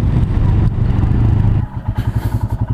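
Royal Enfield single-cylinder motorcycle engine idling close by, a steady loud low thrum that eases into a pulsing, uneven chug toward the end.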